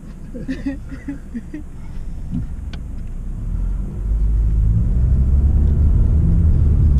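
Low, steady interior rumble of a car on the road, growing louder and heavier midway, with brief speech near the start.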